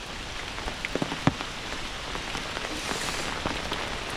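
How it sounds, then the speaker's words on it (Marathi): Konkan monsoon rain falls steadily on surfaces nearby, a constant hiss broken by scattered louder drops and taps, with no voices. "पाऊस लागलो सकाळपासून"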